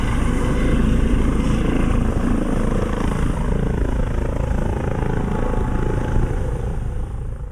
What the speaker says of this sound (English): Here is coming a helicopter by the looks of things.